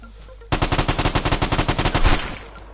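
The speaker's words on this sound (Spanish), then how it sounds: "Le he disparado yo" Automatic weapon fire in the survival shooter Vigor: one loud, close burst of about twenty rapid, evenly spaced shots lasting roughly two seconds, then a brief echoing tail.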